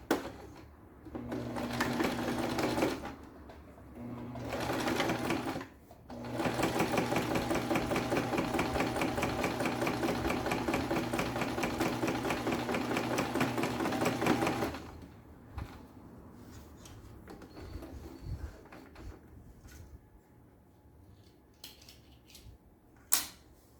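Sewing machine stitching a seam on a beach bag: short motor bursts, then a long steady whirring run of rapid stitches for about nine seconds, followed by quiet fabric handling and small clicks.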